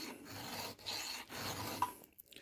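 A hand file rasps across the top plate of a chainsaw chain during sharpening, with steady back-and-forth strokes at close range and a brief pause near the end.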